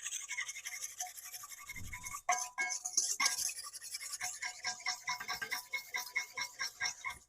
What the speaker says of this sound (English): give this a good whisk. I'm going to kind of try to emulsify this a little bit